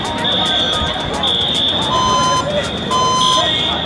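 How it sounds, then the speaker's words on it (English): A building fire alarm set off by a smoke detector sounds in loud repeating electronic beeps and tones, pulsing steadily close by, with people talking over it. "Another smoke detector going off."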